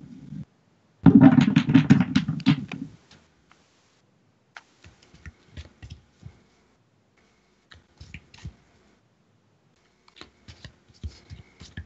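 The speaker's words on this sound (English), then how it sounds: "But if you want to pull a card and see, Melissa." Tarot cards shuffled in a loud, dense riffle for about two seconds, followed by quieter scattered clicks and taps of cards being handled and laid down.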